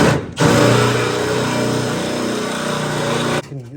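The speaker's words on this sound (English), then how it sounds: "There's a spot weld cutter that you can buy that does this job." A spot weld cutter drilling through steel body metal on a Ford truck, one steady high whirring grind lasting about three seconds, close and loud, with short pauses before and after.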